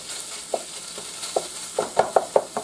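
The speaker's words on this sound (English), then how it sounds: "the garlic is nice and brown, and now we're going to add the turkey" Ground turkey being chopped and fried with browned garlic in a pan, a faint sizzle under a series of sharp spatula taps and scrapes, sparse at first and then coming faster near the end.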